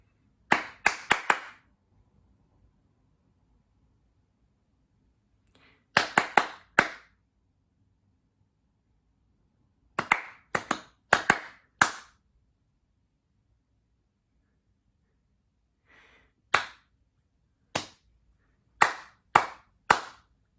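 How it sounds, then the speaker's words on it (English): Two hands clap out short rhythmic patterns, sharp and close, in four separate bursts of several claps each, with silent pauses between them. "I am going to create a rhythm with my hands, just with my hands clapping"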